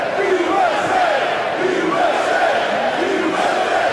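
A mostly European wrestling arena crowd at WWE Raw chanting "USA" in loud, rhythmic unison, the chant rising and repeating continuously across the whole stretch.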